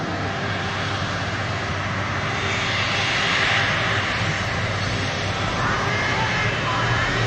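An Emirates Boeing 777 and other heavy jets taxi around a downhill bend in close succession, their engines a loud, unbroken roar that holds steady with a faint rising whine.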